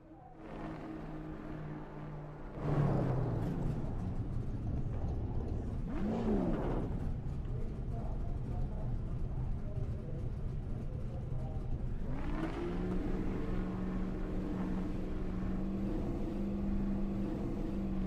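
Race cars lap Martinsville racetrack during SARA One Eight National Tour qualifying, a steady loud engine drone with rising revs and a passing car sweep, continuous and near throughout.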